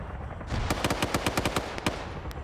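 Rapid burst of video game gunfire, about a dozen sharp automatic shots in quick rhythm, loud and close over a background of game noise.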